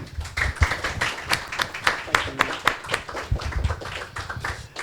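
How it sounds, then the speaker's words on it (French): An audience claps to welcome Japanese filmmaker Kôji Fukada at a DVD event for "Harmonium" and "Au revoir l'été", the claps uneven and sparse, like a modest room of people, with a few murmurs mixed in. "Je propose pour l'accueillir, parce qu'il descend de l'avion, on va l'applaudir peut-être."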